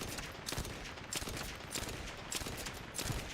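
Rapid, sharp hand cannon gunfire in The First Descendant, a rhythmic burst of shots spaced about half a second apart over a continuous game background.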